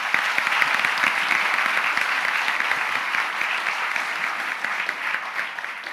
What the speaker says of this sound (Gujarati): બધા તાળીઓ પાડો